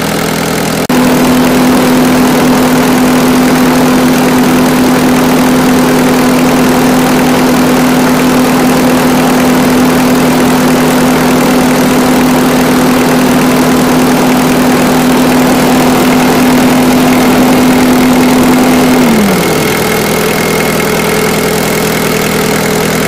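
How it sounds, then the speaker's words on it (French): A Holder AM2 prototype's engine runs loud and constant, its low drone and rough exhaust rumble holding for about twenty seconds before the pitch drops slightly near the end. "J'ai oublié de parler de l'échappement. Alors le bruit c'est extraordinaire."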